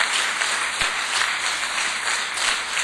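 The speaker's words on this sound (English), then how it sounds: "Let's give him a big round of applause as he's coming forward." Steady applause from an audience at an economic summit greets a keynote speaker coming forward, a dense continuous wash of clapping at moderate level with no individual claps standing out.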